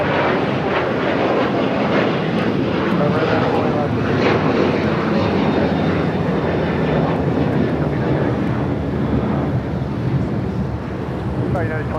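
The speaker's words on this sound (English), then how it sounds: "Flight taking off, heading to Tampa. United Airlines Flight 279." A United Airlines jet taking off from LAX, bound for Tampa, fills the air with a loud, steady, broadband engine roar that barely changes, with voices mixed in.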